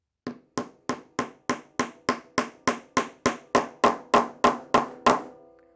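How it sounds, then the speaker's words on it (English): Steady hammer blows drive a wooden dowel into a hole about three times per second, around sixteen sharp knocks in a row, close and clear, the tone deepening slightly toward the end as it seats. "I'm going to hammer it down into place"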